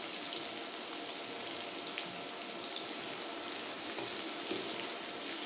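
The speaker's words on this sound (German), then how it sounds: "Und die lassen wir jetzt auch erstmal schön mit anbraten." Ingredients for a white bean and bacon pan dish fry in a skillet, a steady soft sizzle and crackle with scattered pops, close and continuous with no voices.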